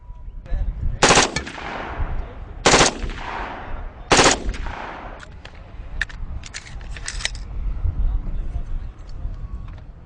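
Three loud, sharp rifle shots from an assault rifle with a 10-inch barrel ring out about a second and a half apart, followed by fainter, scattered distant cracks and clatter under outdoor background noise.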